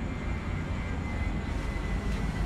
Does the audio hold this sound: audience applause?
no